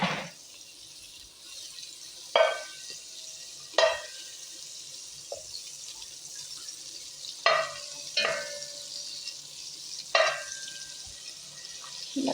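Garlic fries in a hot cooking pot as chicken madhboosh is prepared, a steady soft sizzle broken by several sharp clinks of a utensil stirring against the pot.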